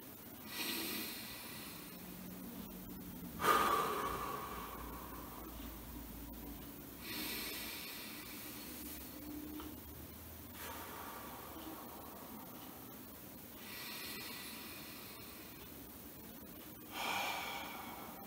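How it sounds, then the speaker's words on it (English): A church congregation breathing slowly together during a Lutheran service: soft, faint inhales and exhales repeating at long, regular intervals over a hushed background. "So if you're willing, please breathe with me."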